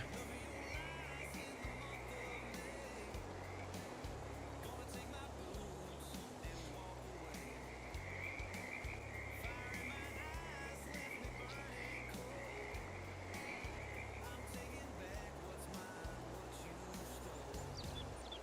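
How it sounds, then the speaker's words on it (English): Frogs croak loudly in a Farming Simulator 22 farm scene set in western wilds, a dense rhythmic chorus running throughout, with a voice talking over it. "These frogs are sure loud."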